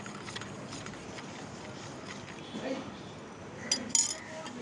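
A spoon swirls and clinks in a container of turmeric liquid being mixed for a hibiscus plant, with soft sloshing, faint scraping and a couple of sharper taps near the end, close and fairly quiet.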